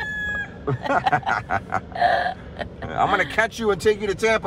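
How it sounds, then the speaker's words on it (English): Chickens in Key West crow and cluck close by, a rooster's call rising between bursts of casual conversation from people nearby. "Literally chickens everywhere in Key West."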